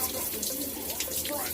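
Tap water runs steadily and close while soap is rinsed out of thick dreadlocks, a soft continuous splashing over a brief moment.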